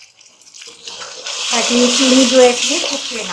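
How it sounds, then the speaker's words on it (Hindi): A little water is poured into sugar in a cooking pan while making gajar ka halwa, giving a steady hiss and sizzle under a woman's speech. "बस इतना थोड़ा सा पानी ऐड करना है बस"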